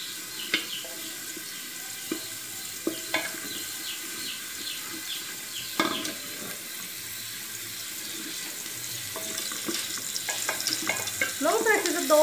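Pasta browns in a little oil in a pressure cooker, giving a steady soft sizzle with occasional clinks and scrapes of stirring, close and fairly quiet, growing busier toward the end.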